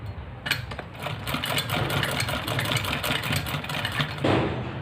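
Sewing machine stitching a straight seam along a dupatta border trimmed with gota patti and a fabric strip; a close, steady, rapid mechanical whir runs for several seconds without talk.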